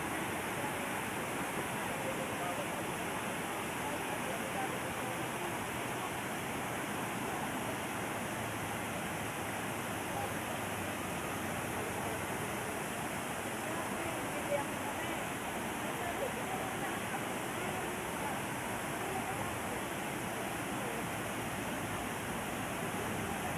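Tamaraw Falls in Mindoro gives a steady, even rushing roar of falling water that stays constant and unbroken throughout, moderately distant and fairly soft.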